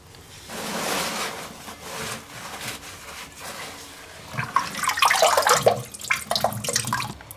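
Water from a toilet tank supply line splashes and trickles into a pan, close-up gurgling and dribbling in uneven bursts that grow louder and more splashy midway before tapering off.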